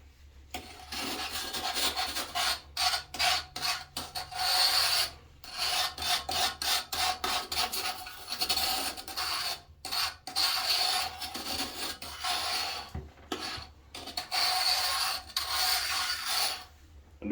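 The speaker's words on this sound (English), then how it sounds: "Let's get the pumice stone." A pumice stone scrubs hard water stains inside a toilet bowl, making gritty rasping strokes in quick bursts with short pauses between them, close and loud, with no talk.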